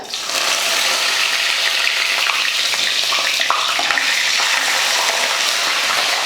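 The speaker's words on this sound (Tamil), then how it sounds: "இதில் தாளிக்கிறதுக்கு எண்ணெய் காஞ்சிருச்சு கொஞ்சம் கடுகுலுந்து கொஞ்சமாக வெந்தயம்" Steady, crackling sizzle of mustard and fenugreek seeds tempering in hot oil, loud and continuous with scattered sharp pops throughout.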